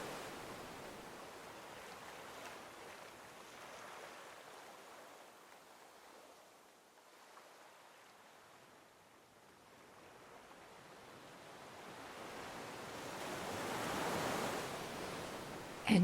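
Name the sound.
ocean waves washing on shore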